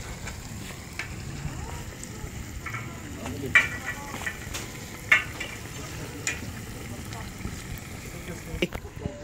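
Plov bubbles and sizzles in a cauldron over a wood fire, a steady simmering crackle broken by occasional scraping stirs and clinks, with people talking nearby.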